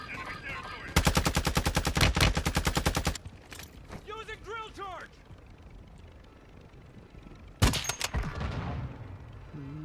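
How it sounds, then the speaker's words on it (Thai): Two loud bursts of rapid automatic gunfire in Call of Duty: Modern Warfare II Warzone 2.0, the first lasting a couple of seconds, with a voice speaking in the quieter stretch between them. "เสียงปืนเสียงระเบิดอ่ะ"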